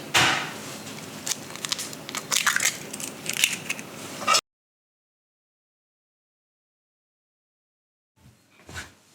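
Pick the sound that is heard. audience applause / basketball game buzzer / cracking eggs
cracking eggs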